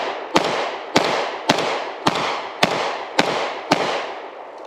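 A Polish Radom Wz.33 Tokarev pistol fires seven sharp shots at an even, steady pace, each crack loud and close with a short ringing decay before the next.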